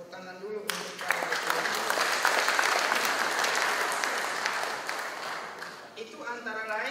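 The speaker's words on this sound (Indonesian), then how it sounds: "Sebelum kita laksanakan ini, kita tepuk tangan dulu untuk para" An audience at an official anti-corruption program event led by a provincial governor breaks into loud, sustained applause that swells, holds for several seconds and then tapers, with speech at the start and end.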